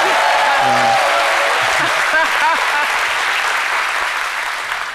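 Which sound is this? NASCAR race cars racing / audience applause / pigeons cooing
audience applause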